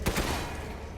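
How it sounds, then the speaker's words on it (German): A short burst of rapid machine gun fire in Resident Evil Village, a few sharp shots at the start trailing off into reverberant noise. "Maschinengewehr"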